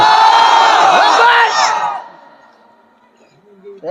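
A loud crowd at an outdoor Islamic sermon (waz) in Bogura roars a takbir response in unison, a dense burst of massed voices that fades away after about two seconds, then a voice begins again near the end.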